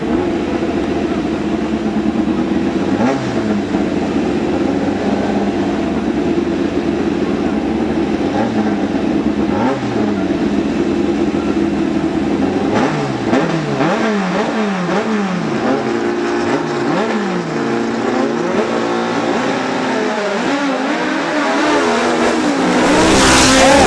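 Two drag racing cars idle and rev loudly as they stage at the start line of a 2006 Silver Dollar Showdown drag strip race, engine pitch sweeping up and down in repeated blips, swelling to a full-throttle launch at the end.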